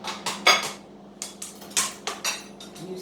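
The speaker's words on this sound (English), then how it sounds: "You stir it up." A utensil scrapes and taps against a dish while risotto with mint and cheese is stirred, a series of short, close clinks and scrapes in an uneven rhythm, with no talking.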